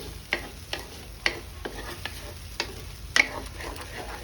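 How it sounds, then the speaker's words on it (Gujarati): A spoon scrapes and clinks around a pan of paneer in about eight irregular strokes over a soft, continuous sizzle of frying food. "ચમચો આપણે ફેરવી લઈશું"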